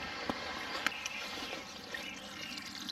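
Water runs steadily from a garden hose into a drip irrigation tank, a constant close rushing with a few faint splashes.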